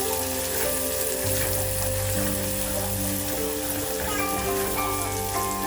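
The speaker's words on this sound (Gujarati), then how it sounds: "ડુંગળી નાખી દીધી છે। હવે એને સાતડી લઈએ ગોલ્ડન બ્રાઉન થાય ત્યાં સુધી।" Finely chopped onions sautéing in a pan until golden brown for paneer bhurji give a steady, close sizzle with no voices, while low, steady hum tones run underneath.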